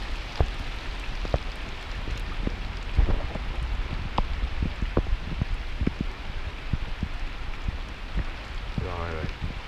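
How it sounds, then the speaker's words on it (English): Heavy rain drums steadily on a narrowboat, a dense unbroken patter with sharper drops striking close by throughout, loud and continuous on its own. "I think it was going to rain, but I didn't think this much."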